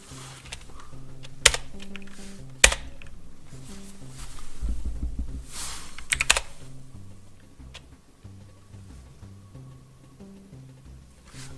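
Computer keyboard typing while setting up a RetroPie system, a run of close, quiet key clicks with a few sharper louder strikes, over faint background music.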